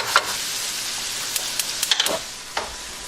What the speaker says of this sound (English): I'm sauteing the onions until they become soft and clear